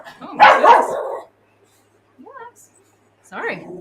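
Dog barks and yips come in two short bursts with a pause between, and a person talks loudly just before them.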